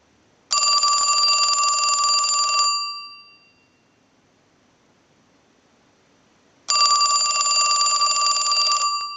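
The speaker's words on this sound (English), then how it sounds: "use the analyzer and send a ring cycle like you were getting a call" An original-model Mickey Mouse telephone rings on a repair bench, its bell driven by a line analyzer's ring cycle: two loud, steady, rattling bursts of about two seconds each, separated by a silent pause, with no voices.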